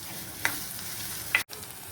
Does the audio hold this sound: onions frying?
yes